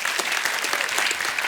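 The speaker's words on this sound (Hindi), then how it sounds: "फरहान और प्रियंका के लिए जोरदार तालियां।" Studio audience applause on the set of The Kapil Sharma Show, a TV comedy talk show: dense, continuous clapping from a large crowd, loud and steady, with no talking.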